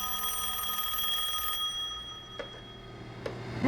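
A telephone rings in a tavern in the morning. The trilling bell is steady for the first second and a half, then fades to faint, scattered tones. No one speaks.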